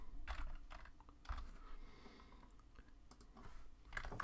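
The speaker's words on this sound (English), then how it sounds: "I will type in Microsoft Word" Soft, close keystrokes tap on a computer keyboard, irregular clusters of light clicks with brief pauses while words are typed into a document in Microsoft Word, quiet and alone.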